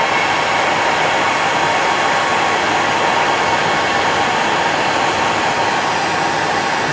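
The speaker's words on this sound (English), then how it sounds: "I always like to blow it through with the hairdryer just to show you the shape as well" A hair dryer blows steadily through a freshly tied salmon fly, a loud, constant broadband whoosh up close with no breaks.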